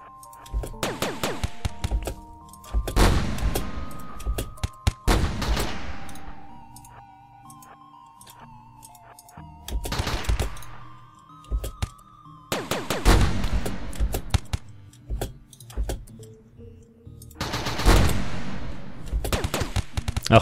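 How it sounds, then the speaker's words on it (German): Distant video-game gunfire in RimWorld, heard as bursts of sharp cracks and rattling volleys that come in clusters about every few seconds, with quiet gaps and faint tonal game sounds between them. "Können die echt von so weit entfernt schießen?"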